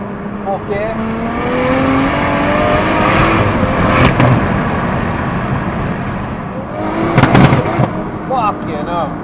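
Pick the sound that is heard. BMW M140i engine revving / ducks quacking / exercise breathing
BMW M140i engine revving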